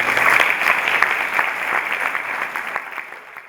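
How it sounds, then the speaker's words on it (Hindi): An audience at a meditation session in a Dhyan Kaksh hall claps together in a dense burst of applause that starts loud and steadily thins and fades over a few seconds. "चलो ताली बजाओ।"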